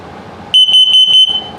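A carbon monoxide detector in an RV chirps through its test, four or five loud, sharp, high electronic beeps in quick succession, close by over a quiet room.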